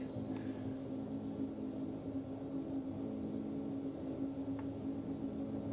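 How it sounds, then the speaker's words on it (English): A PT6A turboprop engine in the X-Plane 10 flight simulator powering up for takeoff, heard as a steady, faint, droning engine hum with a constant tonal whine. "we're going to slowly bring the power levers up till we get the propellers on the governor"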